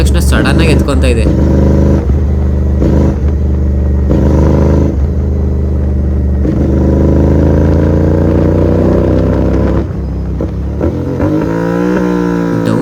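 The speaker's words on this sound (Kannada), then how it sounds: "ಡೌನ್ ಶಿಫ್ಟ್ ಮಾಡಕ್ಕೆ ಮಾತ್ರ ಒಳ್ಳೆ ಮಜಾ ಬರುತ್ತೆ ಇವಾಗ. ಅಲ್ಲಿ ಬರ್ತಾಯಿರೋ ಪಾಪ್ಸ್ಗೂ ಮತ್ತು ಸೌಂಡ್ಗೂ." Royal Enfield GT 650 motorcycle twin engine revving loudly and close, with falling and rising pitch across gear changes and short crackles toward the end, under continuous talk.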